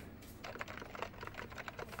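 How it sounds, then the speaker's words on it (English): Rapid computer keyboard typing as a sound effect in the game Yakuza 5, a quiet, steady clatter of keystrokes running throughout. "Keyboard sound."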